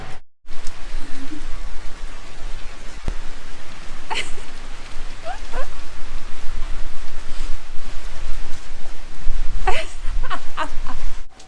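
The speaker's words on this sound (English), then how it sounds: "while we're standing here waiting for the rain to ease" Heavy rain pours down in Bristol, England: a loud, dense, steady hiss of falling water with scattered sharper drips and splashes close by.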